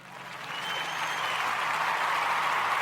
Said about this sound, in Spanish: Quiero que le den un fuerte aplauso al licenciado